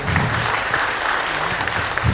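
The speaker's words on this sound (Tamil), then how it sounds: "அவர் கூட போன எல்லாருக்கும் ஒரு பெரிய கைத்தட்டல் கொடுங்க" An audience at a Murugan devotional gathering in Bangalore gives a big round of applause for foot pilgrims, a steady, dense, close clapping throughout with faint voices underneath.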